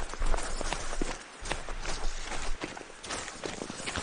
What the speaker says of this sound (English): I'm definitely hearing heavy footsteps, Aaron